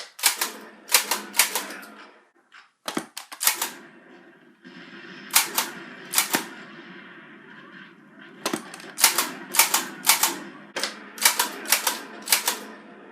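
A PS1 light gun's recoil mechanism clacking with each trigger pull, giving sharp plastic clicks, singly and in quick clusters, loud and close against a faint game soundtrack.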